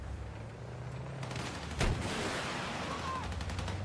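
Gunfire in a video game, with a sharp loud shot burst near the middle and continuing rattling fire afterward over a steady low rumble, such as a tank engine.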